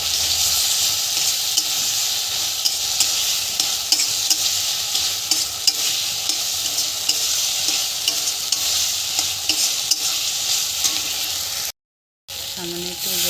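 Potatoes are added to hot oil and spice masala for a Bengali rui fish curry, giving a constant loud sizzle with repeated scraping stirs, broken near the end by a brief silent gap.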